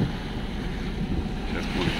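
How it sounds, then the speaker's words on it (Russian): A motorboat cruises on the open sea off Lazarevskoye, a steady low engine rumble mixed with rushing wind and water across the whole short stretch. "Мы плаваем на катере"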